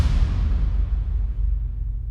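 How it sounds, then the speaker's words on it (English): A cinematic percussion hit from the Evenant classic hits library booms loudly with deep low-end weight, then its broad noisy tail decays over about two seconds. "Here I have the Evenant classic hits from the library and they sound like this"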